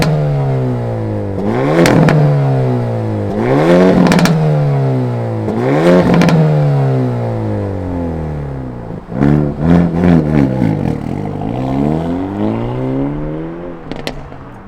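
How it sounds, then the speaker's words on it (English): A 2023 Hyundai Elantra N engine fires up and revs hard several times, each loud rising blip falling back between pulls, followed by a quicker burst of crackling revs and a sharp final pop. "let's fire it up, because I think you're gonna have a little bit of an eargasm with this Elantra N"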